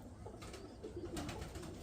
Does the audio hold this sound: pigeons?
yes